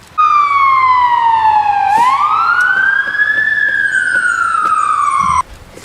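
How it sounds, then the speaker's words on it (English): An emergency vehicle siren wails loud and close during an ice storm in Toronto, the tone sweeping down, then rising and falling again before cutting off abruptly. "I've been hearing a lot of fire trucks and ambulances and police cars this morning and afternoon"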